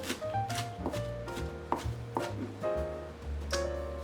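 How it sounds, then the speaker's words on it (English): Steady knife chopping green onions on a cutting board, quick repeated thuds and taps at an uneven rhythm, close and clear with no talking. "We'll start by chopping up one bunch of green onions, or garlic chives"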